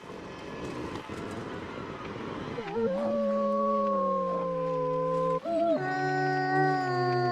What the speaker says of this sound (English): Alright, I hear a wolf growling somewhere.